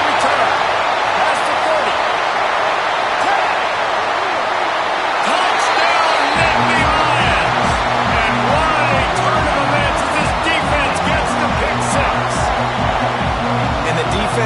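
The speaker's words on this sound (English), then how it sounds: "This crowd bringing the energy and noise early." Stadium crowd roar from the video game College Football 26, a Penn State game early in the first quarter, a loud continuous wash of cheering and noise with a rhythmic band or chant starting midway, steady throughout.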